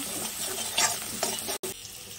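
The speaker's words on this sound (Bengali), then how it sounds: "শুকনো লঙ্কা, তেজপাতা, পাঁচফোড়ন, জিরে গুঁড়ো, হলদি গুঁড়ো, লঙ্কা গুঁড়ো, ধনে গুঁড়ো দিয়ে জাস্ট একটু কষিয়ে নিচ্ছি" Dried red chillies, bay leaves, panch phoron, and ground cumin, turmeric, chilli and coriander sizzle in hot oil in a pan, with a steady close hiss and brief scraping stirs, no voices.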